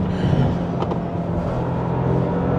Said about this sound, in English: a 3-cylinder always sounds good, but listen to that induction in the back. It's so loud.